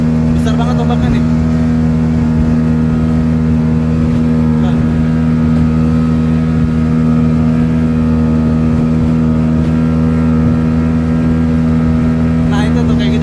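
An open speedboat crossing big sea waves between Penajam and Balikpapan, with a loud, steady engine roar throughout and wind and water noise, without clear talking.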